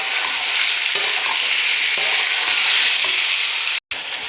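Ash gourd frying in a pan gives a steady, loud sizzle with scraping stirring strokes near the mic, then cuts out abruptly for a moment just before the end.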